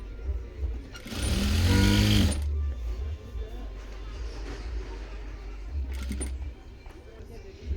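A sewing machine stitching printed suit fabric runs in a loud whirring burst of about a second and a half near the start, with a brief second run later, close up, while someone talks.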